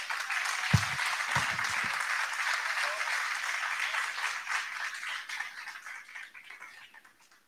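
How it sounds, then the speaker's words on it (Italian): Steady, full applause from a church congregation fills the space, with a few heavier knocks early on, then gradually fades away toward the close. "Possiamo fare un altro applauso."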